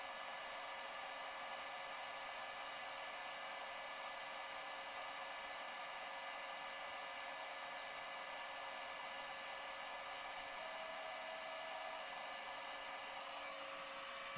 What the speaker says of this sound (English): take out the hot air gun and set the heat on medium